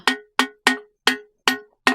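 Six bright, ringing strikes by hand on an ancient musical stone at a historical site, evenly spaced, each with a sharp attack and a short metallic, bell-like decay.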